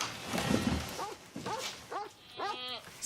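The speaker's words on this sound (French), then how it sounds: "Qu'est-ce qu'il a à gueuler comme ça, le chien?" A dog barks and yelps in short repeated bursts at a moderate distance, with a muffled voice and background noise early on.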